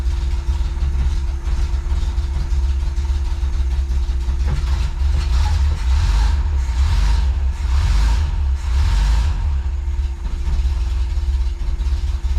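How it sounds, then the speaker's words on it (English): An engine that has just had its starter replaced idles while still cold, giving a loud, continuous low rumble with a steady hum and no talk over it. "Seems to be idling pretty dang well."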